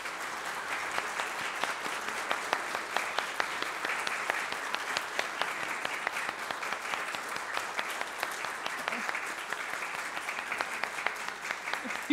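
A steady round of applause from a large crowd, dense continuous clapping at an even level for several seconds.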